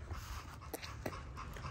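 Dogs at a breeder's on haircut day, heard as soft panting and faint whimpers over a steady background hum, a few brief yips popping out, quiet and somewhat distant.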